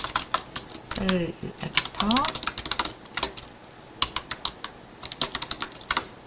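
JavaScript code being typed on a computer keyboard, a steady run of crisp key clicks with short pauses, close up, while someone talks over parts of it.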